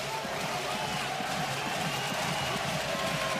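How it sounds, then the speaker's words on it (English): A basketball arena crowd roars in a steady, dense wash of cheering during a New Zealand Breakers versus Melbourne United NBL game, heard at a moderate distance under a commentator's voice. "The crowd loves it."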